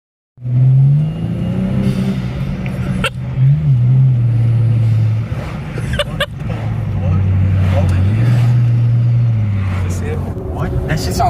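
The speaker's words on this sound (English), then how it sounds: "Right now we're gonna take it on a test drive" BMW E90 with an N55 engine and BMS intake on a test drive, the engine droning and rising and falling through gear changes for several seconds, with people talking inside the car.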